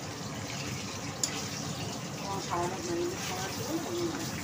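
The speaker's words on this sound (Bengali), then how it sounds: "এবার আমি এতে দেবো গরম জল।" Hot water pours into mutton curry in a kadai, a steady close gush and bubbling mixed with sizzle, while a voice speaks quietly over it.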